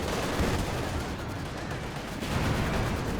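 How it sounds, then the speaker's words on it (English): Battle din from Company of Heroes 2 as a Panther tank fires HEAT rounds, a dense wall of gunfire and heavy booming explosions, loud and continuous with no clear pauses. "Heat rounds are active from this Panther."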